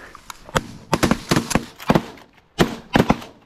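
Shotgun blasts fired at geese during an early season goose hunt in Michigan, a rapid series of sharp, loud reports in two clusters.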